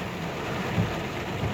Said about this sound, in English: Fucking downpour.